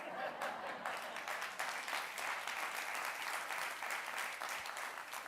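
A conference keynote audience applauding steadily throughout, dense clapping at a fairly even level with no voices standing out.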